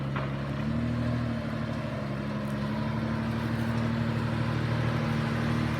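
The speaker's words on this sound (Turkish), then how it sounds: "bu arabanın motor sesine bayılıyorum ya" Steady engine drone of a car being driven, a constant low hum with faint road noise and no speech.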